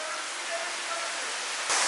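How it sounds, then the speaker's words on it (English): Waterfall inside a melting ice cave, a steady hissing rush of falling water filling the space, getting louder and brighter near the end. "I want to go inside so bad and check out this waterfall"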